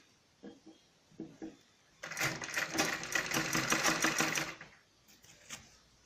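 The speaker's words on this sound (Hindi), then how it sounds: "ऐसे प्लेटों को ऐसे रख के और ऐसे सीधी सिलाई लगा सकती हैं इसके ऊपर।" A sewing machine runs a straight stitch across pleats on salwar fabric for a couple of seconds, a steady close mechanical whirr, with faint handling clicks of the cloth before and after.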